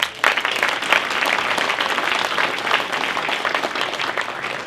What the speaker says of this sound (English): I'd like to give them a great round of applause.